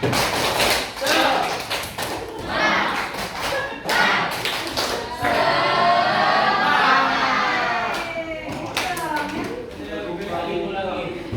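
Rhythmic group clapping chant in a classroom, sharp tap-like claps in bursts with children's voices and talk mixed through, fairly close and loud.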